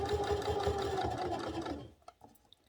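A sewing machine stitches along a collar edge in a fast, even whirring run for about two seconds, then stops, leaving a few soft clicks and handling taps.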